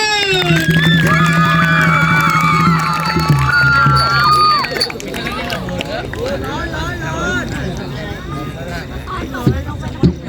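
Scouts and girl guides at a night-time camp ceremony cheer and shout together, a loud chorus of young voices that settles into busy crowd chatter with scattered claps and shouts, close and lively.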